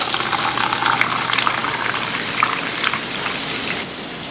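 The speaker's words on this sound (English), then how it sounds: "So now all that's left to do is to pour it into our jars." Homemade raspberry maple sauce, sweetened with apple juice and maple syrup, pours into canning jars in a continuous liquid gush that fades toward the end.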